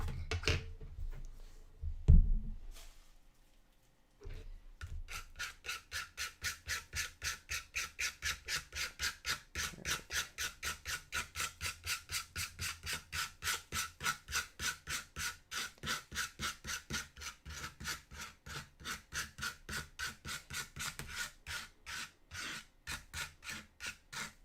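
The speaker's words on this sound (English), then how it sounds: "It only sounds loud. It's not aggressive scraping." A palette knife resting on watercolour paper scrapes in a long run of fast, regular rasping strokes, close and fairly loud, following a few louder knocks and rustles at the start.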